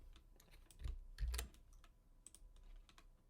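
Short burst of typing on a computer keyboard, commands entered into a terminal, with a few clustered keystrokes and a louder press near the middle, close and fairly quiet.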